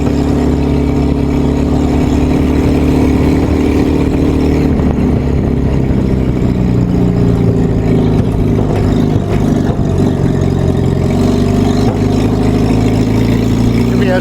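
A WWII Jeep engine drones loudly and continuously with pitch changes as it drives and shifts gears, up close throughout, with talk faintly mixed in.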